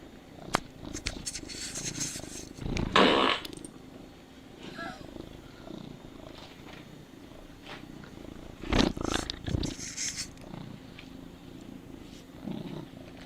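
A cat purrs close by in a steady low rumble, broken by a few louder scraping bursts and rustles.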